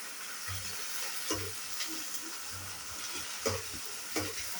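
Upma being stirred in a hot pan, a soft constant sizzle with periodic scraping strokes of a spoon against the pan, fairly quiet and without speech.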